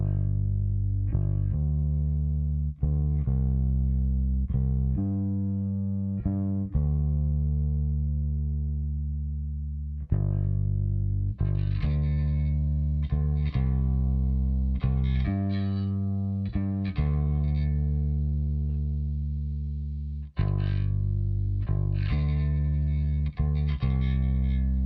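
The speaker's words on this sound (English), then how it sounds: "let's have a listen to all three basses together without our top end" Three layered bass tracks with the top-end presence removed play together, giving thick, sustained low notes with effects and distortion, struck in a rhythmic series and ringing out alone without talk.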